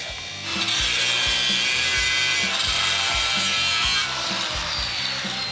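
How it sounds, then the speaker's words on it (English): A scribe or sharp tool scores a line into sheet metal clamped in a vise during bodywork on a '72 Camaro road-course car, giving loud, rapid rasping scrapes in repeated strokes, close and with no talk. "So use the vise to hold it, score a line quick."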